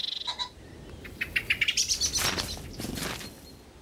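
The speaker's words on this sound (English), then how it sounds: "Warning calls alert the whole woodland." Woodland songbirds raise sharp alarm calls at a hunting sparrowhawk, a burst of rapid, loud chirps and tweets in quick succession, some overlapping, with no voices present.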